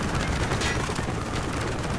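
Dense machine gun fire in Call of Duty: Black Ops jungle village combat, a continuous loud crackling barrage of rapid shots with no pause.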